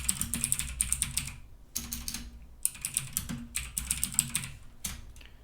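Fast typing on a computer keyboard in bursts of rapid clicking keystrokes, with short pauses between runs, close and clear with no talking.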